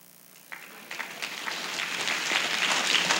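Audience applause at a 1976 science fiction convention panel, starting thin and swelling into steady clapping from a crowd, heard from a distance.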